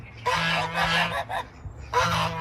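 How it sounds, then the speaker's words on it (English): Geese honk loudly and close by on a farm with ducks and peacocks, in a few harsh overlapping calls across a couple of seconds. "We've got different kinds of geese and peacocks."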